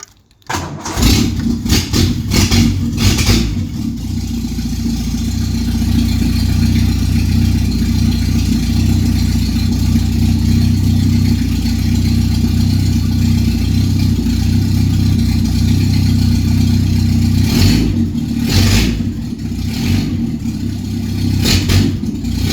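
A Ford Escort MK2 engine catches and settles into a steady, loud idle with the clutch pressed to test a replaced throwout bearing, running evenly for about twenty seconds with a couple of brief blips near the end.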